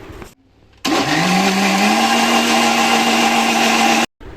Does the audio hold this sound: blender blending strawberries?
yes